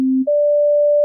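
A synthesizer plays plain sine wave notes, a steady low tone that jumps up to a higher sustained pitch, loud and clean with nothing else heard.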